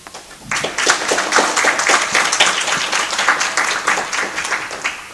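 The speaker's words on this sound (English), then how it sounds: "Huge round of applause for all of our volunteer tutors." A crowd bursts into sustained applause for volunteer tutors at a Project Read tutor appreciation event, dense clapping filling the room steadily for several seconds with no one speaking.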